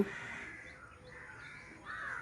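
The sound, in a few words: crow cawing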